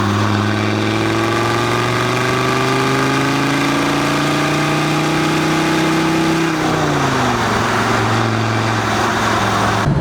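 A Land Rover Defender's TD5 diesel engine runs loud and close, a steady mechanical drone whose pitch climbs gradually, then drops back around two-thirds through as the revs settle, with no voices over it.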